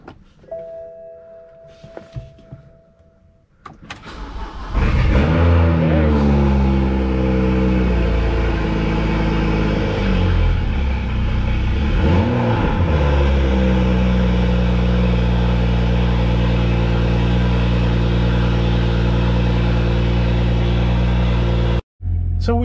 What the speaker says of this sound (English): So we had a bit of a rough start, but the car has started.